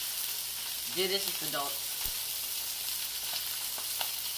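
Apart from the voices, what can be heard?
fish sizzling while frying in a pan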